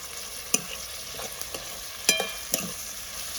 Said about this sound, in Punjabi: ਵਿੱਚ ਆਪਾਂ ਪਾ ਲੈਨੇ ਆ ਜੀ ਪਿਆਜ਼ ਬਹੁਤੇ ਨਹੀਂ ਪਕਾਵਾਂਗੇ ਥੋੜੇ ਜਿਹਾ ਪਕਾਵਾਂਗੇ